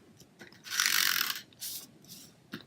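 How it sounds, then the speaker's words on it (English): A snail adhesive tape runner drawn across Designer Series paper during card making, giving a short ratcheting rasp that swells and fades, followed by a few softer clicks and scrapes, close by with no talking. "Gonna come in with my snail adhesive"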